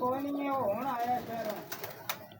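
A female pigeon gives a low, throaty cooing close by, a rolling burbling call, with faint background noise and a few clicks toward the end.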